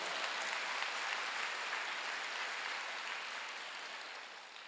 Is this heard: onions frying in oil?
no